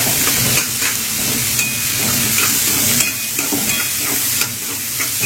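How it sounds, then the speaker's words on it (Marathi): Onion frying in hot oil for a vegetable curry, a steady loud sizzle and hiss close to the pan with occasional stirring scrapes, no voices. "कांदाही आपण चांगला तेलामध्ये फ्राय करून घेऊया."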